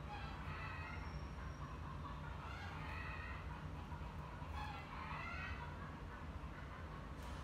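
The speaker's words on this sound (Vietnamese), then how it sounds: "Bạn nghe tiếng gà kêu không?" Chickens clucking from a neighbor's backyard coop in Saigon, faint and distant over a steady low background hum.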